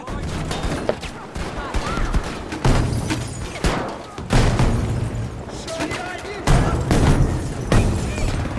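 Gunfire and blasts in Battlefield V, including a frag grenade explosion, sound as a series of loud, booming bursts and bangs in quick succession amid a chaotic battle, with a voice talking briefly.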